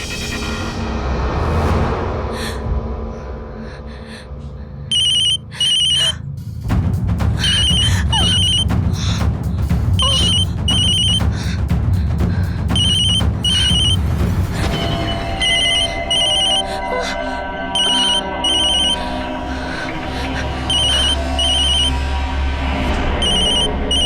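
A telephone rings loudly in a drawn-out sequence of repeated electronic trills with short pauses, sounding under tense background music in a Hindi horror drama.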